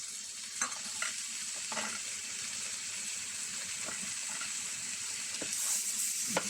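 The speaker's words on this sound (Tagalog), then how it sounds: "Iti-prito pa natin itong chicken." Chicken halved in two fries in a pan for an Arabic-style yellow rice dish, a soft continuous sizzle broken by occasional scraping stirs and light clicks of a utensil.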